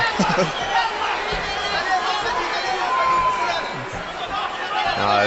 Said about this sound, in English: it's hard to hear when you've got a mob cheering